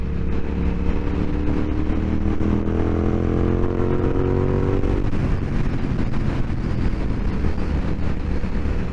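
A motorcycle sweeps through corners with a steady engine drone and wind rush. The engine pitch slides down midway as the bike leans and turns, and the sound stays close and continuous throughout.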